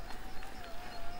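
Shimano EP801 motor on a Canyon Spectral eBike in Trail mode: a thin, steady motor whine runs beneath rhythmic soft thumps and rattles from the moving bike.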